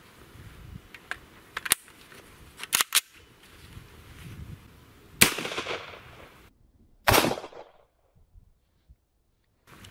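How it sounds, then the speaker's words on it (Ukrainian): Several sharp gunshots from a shortened SKS rifle during outdoor test firing, loud and spaced irregularly, with two louder reports near the middle and end and quiet pauses between. "Починаємо відстріл тестовий."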